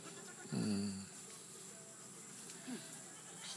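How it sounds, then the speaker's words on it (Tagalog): Goats bleat at a farm, one clear wavering cry followed by a shorter fainter call, with quiet outdoor background and no talk over them. "Oh, dami na natin kambing."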